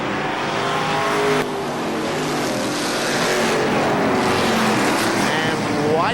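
Race cars roar around the KilKare Speedway oval during a 1999 race, a dense, loud wash of engines with cars sweeping past through the turns, steady and continuous throughout.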